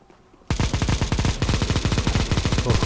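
A Negev machine gun in Counter-Strike: Global Offensive opens up after a brief quiet moment, firing a loud, sustained rapid burst of evenly spaced shots that runs to the end without pause.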